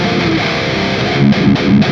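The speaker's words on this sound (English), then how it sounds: "Here's the guitar tone." Heavily distorted electric guitar tone for death metal, a thick, saturated wall of sound held loud and steady, with a few short chugging accents near the end.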